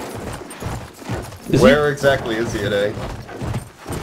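Horse hooves clip-clop in the video game Battlefield 1, a muted rhythmic trot running beneath close, excited talk between players.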